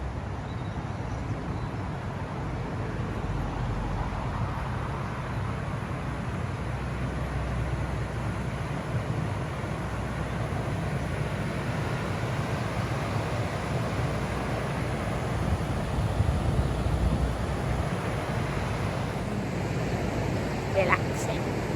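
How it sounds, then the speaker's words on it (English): A small waterfall outdoors, a continuous broadband rushing hiss of falling water, steady and fairly close, with a slight swell toward the end and no clear voices. "Just show you my waterfall."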